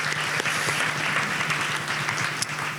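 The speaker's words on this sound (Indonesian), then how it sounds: "Berikan tepuk tangan kita untuk Tuhan kita" Church congregation applauding during an online worship service, a steady dense wash of many hands clapping at moderate level with a faint low hum beneath, continuous throughout.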